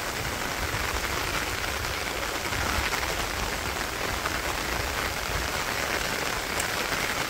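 Monsoon rain falling steadily outdoors in rural Bangladesh, a dense, even wash of drops hitting surfaces that holds at constant loudness throughout, with no voices.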